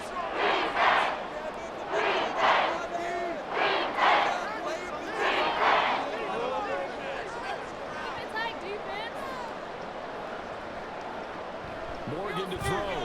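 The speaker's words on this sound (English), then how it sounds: "This crowd trying to force a false start here." A college football game between Florida and Mississippi State, with a loud stadium crowd roaring and chanting in surging waves to force a false start, under continuous play-by-play commentary.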